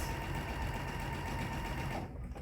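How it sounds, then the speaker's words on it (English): A sewing machine runs a quarter-inch seam down both sides of fabric pieces placed right sides together for a clippy bag. A close, steady, rapid mechanical whir continues without talk, then stops near the end. "I'm going to sew 1/4 inch down both sides"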